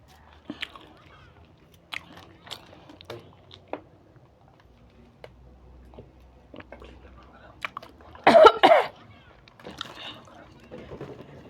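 Spicy Korean noodles eaten by hand, with scattered small wet mouth clicks and chewing sounds, then a louder burst of biting and slurping near the end, close and intimate.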